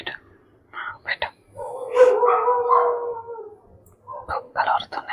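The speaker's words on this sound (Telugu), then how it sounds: "కుక్కలు వరుతున్నాయిరా నాయన." Dogs bark in short sharp bursts, then one lets out a sustained, wavering howl, with more barks at the end; fairly close and loud, with faint voices in the background.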